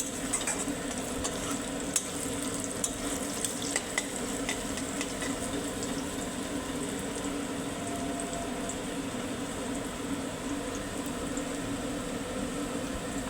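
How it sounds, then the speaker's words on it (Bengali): Onions fry in a pan, a steady sizzle running for several seconds with occasional sharp scrapes and clicks as they are stirred, no voices. "পেঁয়াজগুলো ভাজার সময় আমি মাঝে মাঝে এটা নাড়াচাড়া করে দেবো একদম লাল লাল করে আমার পেঁয়াজগুলো ভাজা হবে"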